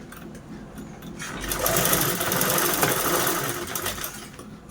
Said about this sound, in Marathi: फायनली आपला बेल्ट पण स्टिच करून झालेला आहे